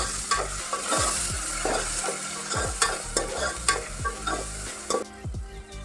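A spiced mixture sautéing in hot oil in a pan until it turns reddish, with steady close sizzling and repeated rhythmic scrapes and clacks of stirring, the frying dropping off abruptly near the end.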